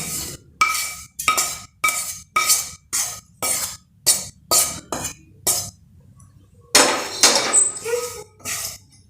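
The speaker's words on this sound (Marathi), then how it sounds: "याला वाटीने थापून घेऊयात" Jaggery sweet mixture (gulpapdi with edible gum and finger millet) pressed flat with a small bowl onto a ghee-greased plate, giving a series of about a dozen sharp, close tapping knocks in steady rhythm, then a brief clattering scrape.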